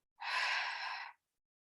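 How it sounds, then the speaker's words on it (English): One long open-mouthed exhale in a guided breathing exercise, a close, airy sigh-like whoosh of about a second between stretches of silence. "Open mouth, exhale, let it go."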